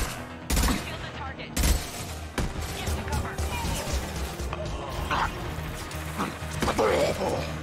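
Rockets fired by Grunt, the krogan squadmate in Mass Effect 2, bursting as sharp loud blasts near the start and again shortly after, followed by a steady clatter of combat noise and some talking.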